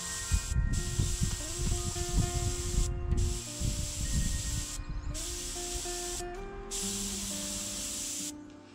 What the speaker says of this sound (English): The only bad thing about spraying lightly with these at a low pressure, paint clogs up in the tip easy.